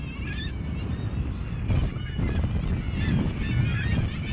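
Kittiwakes at a Svalbard seabird cliff colony fill the air with a dense, continuous chorus of overlapping calls over a low rumble of wind and surf.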